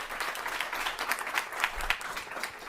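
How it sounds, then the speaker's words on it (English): Applause at a state legislative committee hearing, a short burst of scattered clapping from a room of people, moderately loud and alone. "So all that applause is for staying within the 2 minutes."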